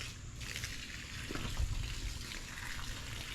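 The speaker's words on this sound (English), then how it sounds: "Rinse that good stuff out of there." Water runs steadily from a tap, rinsing out a small measuring cup used for mixing weed and grass killer, a soft continuous splashing and trickle heard alone at close range.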